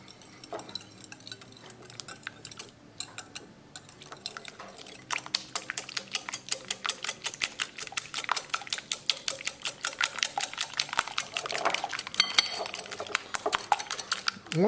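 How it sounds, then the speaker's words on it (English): A whisk or fork clattering quickly against a bowl while mixing beaten egg with salt, black pepper, ginger powder, garlic powder and Kashmiri chili, starting quietly then becoming a fast, steady, close tapping with no talk. "Now we're going to mix them well."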